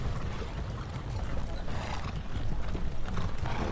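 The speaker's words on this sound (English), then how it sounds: "get on your horses" Galloping horses in a Thirty Years War strategy video game, a dense continuous drumming of hooves with busy rhythmic clatter, fairly faint but steady throughout.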